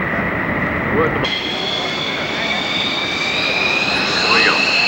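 Fixed-wing aircraft flying around at an airshow, a steady engine drone with a high whine that stays loud throughout, with some crowd noise beneath.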